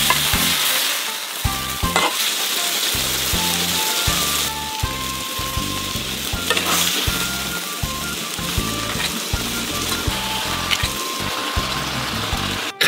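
Spicy lobster with added vegetables being stir-fried in a wok, a loud continuous sizzle with repeated rhythmic scraping and tossing strokes throughout, close and without talk.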